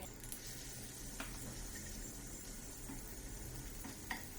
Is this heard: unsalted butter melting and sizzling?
yes